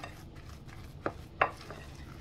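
Two sharp knife strokes chop parsley on a cutting board in a home kitchen, with a soft third tap after, over a low steady background hum.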